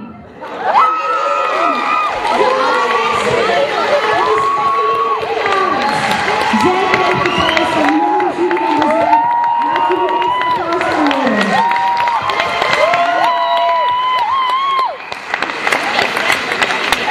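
An audience cheers, whistles and applauds at a youth arts award ceremony as a first-prize winner is announced, a loud sustained crowd roar with shouting voices rising over the clapping throughout.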